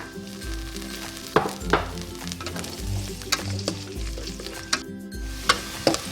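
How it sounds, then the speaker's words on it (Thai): Shiitake mushrooms stir-frying in hot vegetable oil in a wok, a steady sizzle broken by several sharp scraping strokes of a spatula, close and fairly loud, no voices. "พอน้ำมันเริ่มร้อน แล้วก็ใส่เห็ดหอมของเราลงไปผัดค่ะ"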